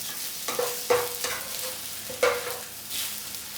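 Aubergine frying in oil in a hot pan for a brinjal bhaji curry, a soft sizzle broken by a few distinct clatters and scrapes as the pieces are turned over.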